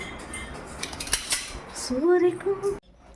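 Metal spoon clinking and scraping against a plate, several close rattles followed by a short ringing squeal before the sound cuts off, a voice faint in the background.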